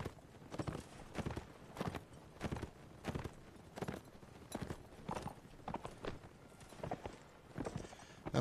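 Horse hooves clip-clop in the video game Napoleonic Wars, a steady walking rhythm of repeated hoofbeats at moderate distance, fairly quiet with no other prominent sounds.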